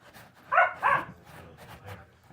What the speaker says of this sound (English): You guys can hear my dogs playing.